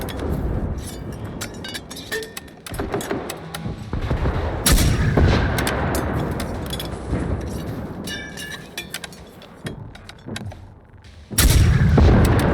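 Heavy gunfire and booming blasts in the video game Generation Zero, irregular loud shots and explosions with a sudden strong burst near the end.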